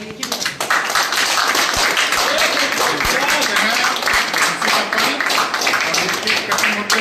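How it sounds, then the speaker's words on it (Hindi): Crowd applause at a sixth-anniversary celebration fills the scene, dense and steady clapping continuing throughout, with some cheering mixed in. "और जोरदार ताली।"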